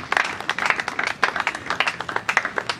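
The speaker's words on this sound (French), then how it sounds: "Il mérite nos applaudissements." A crowd claps together at a memorial tribute gathering in a church, a dense run of quick, crisp hand claps that swells and dips across the whole stretch with no voice on top.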